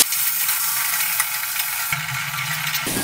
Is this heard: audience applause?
no